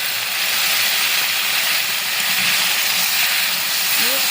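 Water poured over spices frying in a pan for a desi chicken and potato curry gives a loud, steady sizzling hiss that runs unbroken and close throughout.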